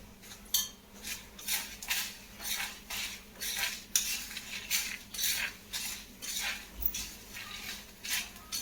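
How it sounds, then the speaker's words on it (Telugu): Dry red chillies and cumin frying in a hot pan, heard as a soft sizzle under repeated scraping strokes of a metal spatula against the pan, a steady close rhythm of clinks for several seconds. "చూసారా ఎండుమిర్చి ఫ్రై అవుతుంది"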